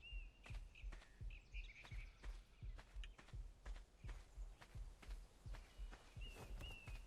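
Bird calls in the ARK survival game, Crystal Isles map, appear as short high chirps over a steady run of heavy footsteps, with no talk.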